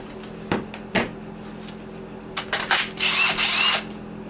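A power drill running at high RPM to polish brass, with a sustained whirring burst near the end after a few short clicks and bumps, close and fairly loud with no talking.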